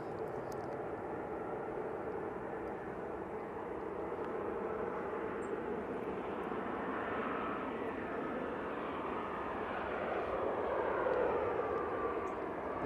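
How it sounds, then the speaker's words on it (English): Aer Lingus Airbus A320 arriving from Dublin to land at Manchester Airport, a continuous distant jet roar that swells gradually toward the end, with no voices. "Oh, it doesn't want to land this 320"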